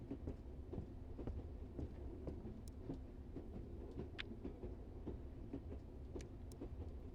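A train rolls steadily in a haunted-train video game, a constant low rumble with faint rhythmic clacks and occasional metallic ticks, no voices over it.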